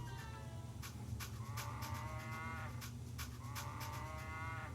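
A cartoonish cow moos repeatedly in Nancy Drew Secrets Can Kill, a Cash Cow sound effect with several short drawn-out bellows over a low steady hum, fairly faint.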